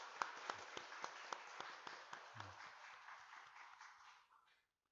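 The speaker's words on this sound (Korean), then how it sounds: "한번 박수 한번 하겠습니다" A church congregation claps for an elder during Sunday worship, a steady rhythm of distinct, fairly close hand claps that thins out and stops, with no talking over it.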